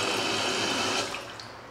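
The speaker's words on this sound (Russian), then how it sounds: "Здесь очень интересно, кстати, смотрите, сделаны краны. Ух ты, водопадом," Water pours steadily from a waterfall-style bathroom faucet, a broad continuous rushing splash heard up close, easing slightly toward the end.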